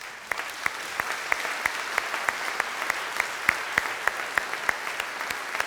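A crowd claps together in a steady rhythmic beat, sharp claps repeating about three times a second over a wash of hall noise.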